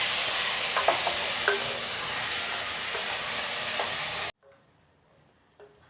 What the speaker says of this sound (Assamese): এইখিনি ভালদৰে ফ্ৰাই কৰিম এতিয়া